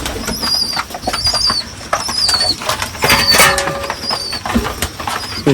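Pigeons flap their wings in quick, loud bursts close by, the flutters coming in clusters with a few soft coos and chirps between them.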